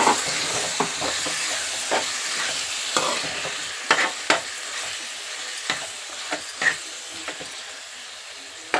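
Washed chicken pieces for a brinjal chicken curry dropped into hot oil, a loud continuous sizzle and hiss with frequent scraping stirs of a spoon against the pan, no talking.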